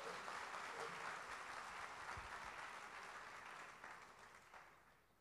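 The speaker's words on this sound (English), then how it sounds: "shall we give them a round of applause" A hall audience at an archbishop's address applauds in a sustained round, steady at first and then thinning and fading toward the end, with no voices over it.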